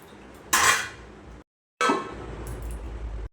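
Lid lifted off a pot of fish curry cooked on low flame: two short metallic clanks and scrapes separated by a brief pause, close and moderately loud, with no talking.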